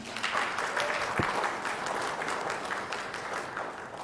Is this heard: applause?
yes